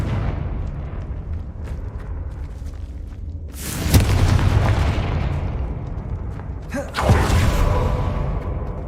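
Two booming blasts from the Confringo explosion spell in Hogwarts Legacy, each a sharp burst with a long rumbling decay, over steady game ambience.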